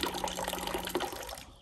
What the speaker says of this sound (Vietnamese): đây là cấp nước rót trà này